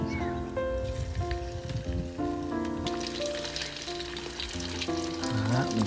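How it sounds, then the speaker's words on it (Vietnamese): Fish fries in hot oil, giving a continuous loud sizzle and crackle close by, with steady background tones and clinks layered over the bubbling. "Đó, mình cho hết vào mình chiên giòn hết luôn nha."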